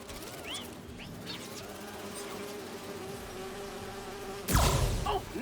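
Holographic bee wolves in Marvel's Spider-Man 2, a steady insect-like buzzing with small whirring swoops, close and moderately loud, capped by a brief sharp whoosh near the end.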